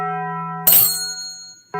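A bright notification bell chime rings out with a sustained tone, followed by a sharp metallic ding, then a second ding starting just as the clip ends.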